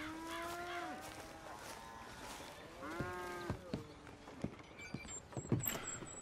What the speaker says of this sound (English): And milking cows and all that.